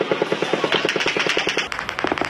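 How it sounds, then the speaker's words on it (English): Rapid automatic gunfire heard on the strip during a mass shooting, captured on a cell phone: a steady stream of sharp, evenly spaced shots, loud and continuous, with a brief break before the bursts resume. "And we hear gunfire."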